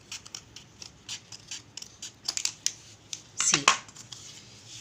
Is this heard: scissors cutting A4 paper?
yes